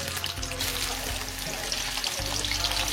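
Paneer frying in a pan in a home kitchen, a steady sizzle lasting about three seconds over a low hum, with no talking.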